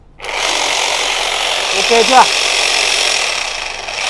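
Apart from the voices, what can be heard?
Makita power drill running in drill mode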